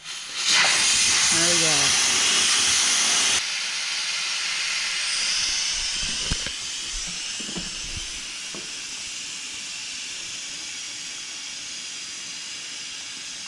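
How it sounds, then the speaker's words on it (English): A pressure cooker valve is turned open while making chicken pasta and releases a loud, steady hiss of steam for about three seconds before it cuts off. Quieter clatter follows, and a person briefly speaks. "I am going to depressurize this one myself this time."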